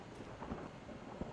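Storm thunder in the video game All is Dust, a low continuous rumble with rain-like hiss, fairly faint and steady with a few soft swells, no talk.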